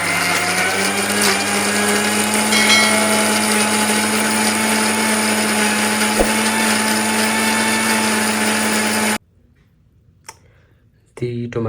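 A blender purées tomato cubes in a locked jar, running loud and steady for about nine seconds before cutting off into near silence, followed by a few faint clicks.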